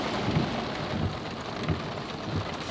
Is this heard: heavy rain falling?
yes